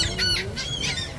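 Birds squawk and honk at a beach stop on a Caribbean cruise in the Bahamas or Virgin Islands, several short calls overlapping over a steady outdoor background.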